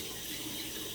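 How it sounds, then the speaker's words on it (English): Warm tap water running from a faucet over a razor head during a shave, a steady close hiss of flowing water filling the whole short moment without pause. "you want to put your razor head under the water, because the warmer the head is, the better the shave will be"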